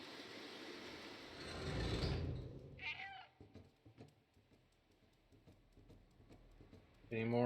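A cat's meow from the video game Stray rings out briefly around the three-second mark, after a loud rushing burst, with soft ticks and patter following and another short meow near the end; a person talks over parts.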